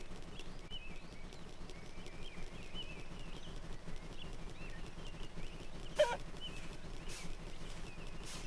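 Chickens cluck and squawk in the My Friend Peppa Pig video game on PS5, a steady stream of faint bird calls over a soft background with one brief louder burst partway through; no talking.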